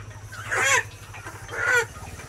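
Chickens and ducks at a poultry seller's stall, domestic and other hens, give two loud, close clucking calls about a second apart over a low steady hum.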